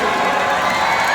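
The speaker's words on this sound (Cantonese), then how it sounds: "可唔可以俾啲掌聲聽下？" A classroom fan-meeting audience cheers and applauds the girl group Honey Punch in a loud, dense wall of shrieks, whoops and clapping that holds steady for the whole moment.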